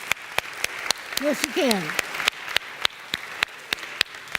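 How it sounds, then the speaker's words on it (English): Sparse, evenly spaced claps ring out in a church congregation at Middle Church, a steady single-handed rhythm of sharp hits running under a speaker's voice. "I'm clapping for y'all."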